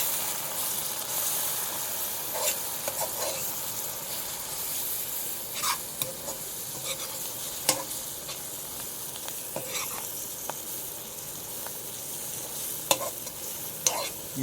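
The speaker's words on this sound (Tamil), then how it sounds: "இப்படியே நல்லா பச்சை வாசம் போகிற வரைக்கும் நல்லா வதக்கிக்கலாம்" Magic masala being sautéed in a pan for magic masala chicken, a steady low sizzle with scattered sharp clicks of a spoon stirring against the pan, no talking.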